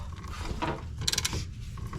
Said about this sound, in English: I don't know if you can hear it, but it's creaking every time I spin it.